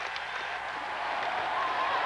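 Crowd at a 1993 college basketball game between Michigan and Michigan State cheers and applauds in a continuous wash of noise, steady and moderately loud throughout, swelling slightly toward the end.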